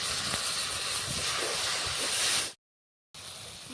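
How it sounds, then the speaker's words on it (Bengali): Water poured into frying turmeric and chili powder spices for a fish curry gives a steady, fairly loud hiss of steam, broken by a short silent gap before the hissing returns. "মশলাটা ভাজার জন্য একটু জল দিয়ে দিচ্ছি"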